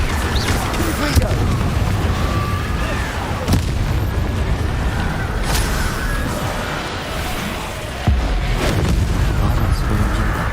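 Confringo blasting spells explode during a fight in the video game Hogwarts Legacy. Several sharp blasts go off over several seconds above a constant, dense roar of battle noise.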